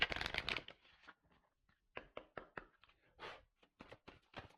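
Tarot cards being handled and shuffled up close: a dense riffle at first, then scattered soft taps and flicks with quiet gaps between them, fairly faint overall.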